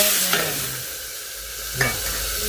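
Cumin seeds crackle and sizzle in hot oil for tempering, a steady hiss with a couple of sharp stirring scrapes.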